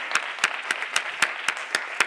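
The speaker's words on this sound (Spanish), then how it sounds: "un aplauso para él" Applause for a veteran of the movement at a cannabis legalization talk: sharp, evenly spaced claps, about four per second, ring out clearly over a quiet room with no talking.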